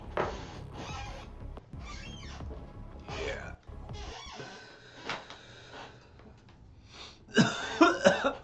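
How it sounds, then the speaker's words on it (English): A person has a coughing fit during a gaming livestream: a series of harsh, irregular coughs and throaty bursts up close, ending in an especially loud burst. "Oh no, coughing fit."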